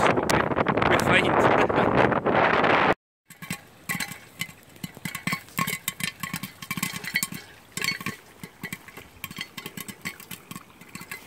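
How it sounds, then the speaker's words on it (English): Heavy wind buffeting the microphone in gusty bursts in woods, first loud and dense, then after a short gap continuing in rougher, uneven rumbles. "Sorry, it's really windy."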